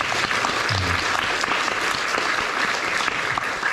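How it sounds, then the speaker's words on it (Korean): Audience at a church youth event clapping for senior high school students, a dense, steady wash of applause filling the hall for several seconds, with a brief voice low underneath near the start. "박수 한번 쳐주세요."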